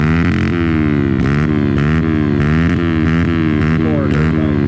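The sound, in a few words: pit bike engine revving on a hill climb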